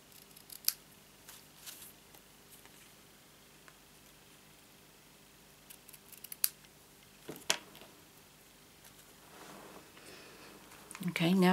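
Scissors trim the ends of a paper ribbon bow on a handmade customer thank-you gift, giving a few sharp, quiet snips spaced apart over faint rustling, with louder handling at the end.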